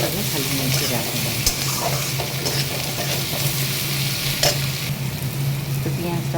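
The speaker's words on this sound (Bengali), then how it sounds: "তো পেঁয়াজটাও এদিকে লাল লাল করে ভাজা হয়ে গেছে।" Onion frying in hot oil with whole spices sizzles steadily and close by, with the occasional scrape of stirring and faint watery clinks underneath.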